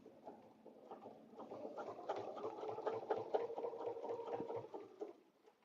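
A sewing machine stitches a quilted table runner a quarter inch from a marked line, a faint, steady mechanical whir with fast rhythmic ticking that runs for several seconds before easing off at the end.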